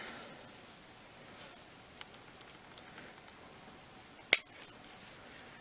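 A single sharp scissors snip cuts through dead Phalaenopsis orchid roots, close and brief against a faint rustling background in an otherwise quiet room.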